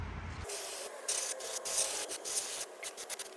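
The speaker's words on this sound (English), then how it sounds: "I'm just gonna clean this with brake cleaner." Brake cleaner sprayed onto a new rear brake rotor from a 2012-2020 Toyota 4Runner, heard as a close, steady aerosol hiss that runs for about three seconds, rising and dipping in short surges as the nozzle is pressed.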